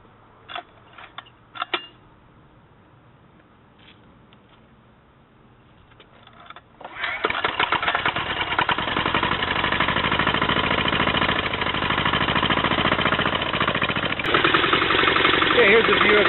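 A turbo diesel mini bike engine cranks with a few clicks and knocks, then catches and settles into a loud, steady, clattering diesel run that continues to the end.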